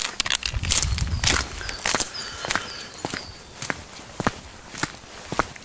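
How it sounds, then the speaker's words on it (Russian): Footsteps crunch outdoors on a walk with a dog, a steady series of close, distinct steps, loud at first and then lighter and spaced out, with no talking. "Слышите шаги?"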